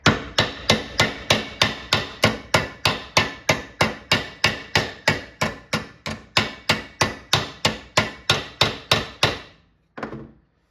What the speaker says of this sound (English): I want to try to hammer these lines where I've creased it at